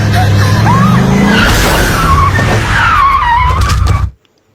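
In a film scene, a car strikes a woman: a loud tire screech and roaring engine surge up close, then cut off abruptly into silence.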